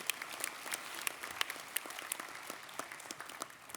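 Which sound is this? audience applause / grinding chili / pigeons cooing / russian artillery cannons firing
audience applause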